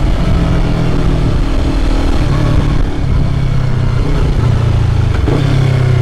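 A 2020 Yamaha YZF-R3 motorcycle engine runs loud and close, blipping its revs in repeated rev-matching downshifts. The rising and falling engine pulses sit over a continuous mechanical drone with a slight rattle and no voices.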